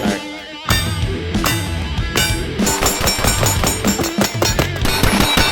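Rapid strings of loud gunshots from an LWRCi IC A5 10.5-inch rifle during recoil-control speed drills, sharp cracks fired in quick succession, some nearly overlapping, close to the listener.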